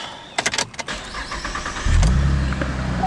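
A 2011 Chevrolet Camaro 1LT coupe starts up: a quick burst of starter cranking, then the engine catches and settles into a loud, close rumbling idle.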